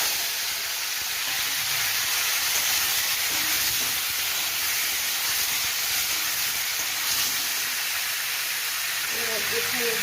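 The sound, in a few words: chopped tomato sizzling in hot oil with dried chilli, mustard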